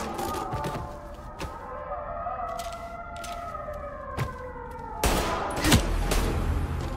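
Rapid gunfire bursts and single shots crackle in a Mafia video game, layered over a wailing siren that rises and falls, with a louder cluster of shots near the end.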